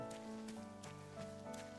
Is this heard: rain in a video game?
yes